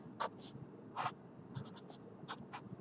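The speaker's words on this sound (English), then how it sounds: "So I'm going to write" A pen writing notes gives faint, close scratchy strokes in short, irregular bursts, some single and some in quick clusters, with no talking.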